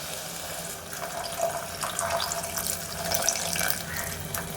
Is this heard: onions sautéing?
no